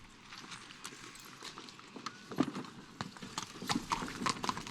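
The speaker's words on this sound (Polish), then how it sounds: "Gdzie koń idzie?" Horse hooves clip-clop steadily on a hard surface during a rural film shoot, the irregular clopping fairly close and moderately loud against faint background ambience.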